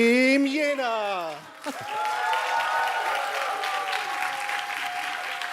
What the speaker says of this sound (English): And applause for all Team together we are Team Jena.